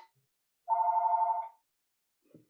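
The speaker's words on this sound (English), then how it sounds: "I forgot to take the phone out of here, so please disregard." A phone rings once, a steady electronic trill lasting just under a second in an otherwise quiet room, close and clear, followed by a faint brief rustle.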